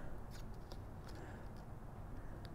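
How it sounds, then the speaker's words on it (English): Faint, quick snips of scissors cutting a V notch into a small strip of paper for a craft tag, several short crisp clicks close by in a quiet room. "just using some scissors, we are going to just cut a V out of the bottom of this"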